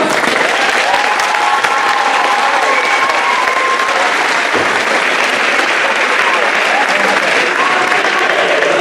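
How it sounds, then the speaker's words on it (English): A large crowd applauds 8th graders at a middle school awards ceremony, loud, dense clapping sustained throughout, with faint cheers and crowd voices mixed into the roar. "let's give our 8th graders a round of applause"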